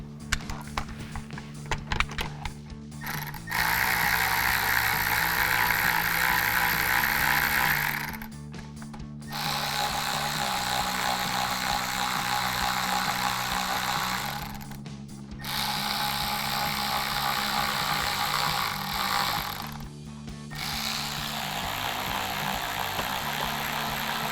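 A ratcheting tool whirs in long steady runs with short pauses while 5.5mm bolts go back into the underside of a 2005-2009 Mustang, loud and close, no voices.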